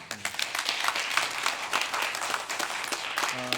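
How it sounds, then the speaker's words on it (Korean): A church congregation claps in congratulation during the announcements of a Korean Sunday worship service, a steady moderate round of applause from a roomful of people, with brief low organ-like tones at the start and end. "축하의 박수 한번 할까요?"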